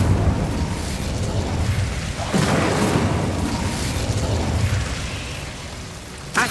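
The Incendio fire spell is cast in Hogwarts Legacy, a dense, booming whoosh of flame that swells loud and close, rumbling for several seconds before a brief final burst.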